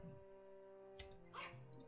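A short, faint dog bark from the gladiator management game Gods of Sand, a single quick yip over a quiet background hum of game music.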